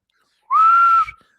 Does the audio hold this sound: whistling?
yes